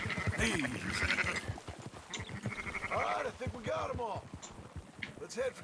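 Sheep bleat repeatedly in Red Dead Redemption 2, several wavering calls in quick succession from a nearby flock, with a voice partly overlapping them.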